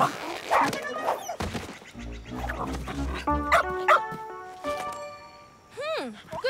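A cartoon puppy barks and yelps in short bursts over music, with a character speaking between the barks.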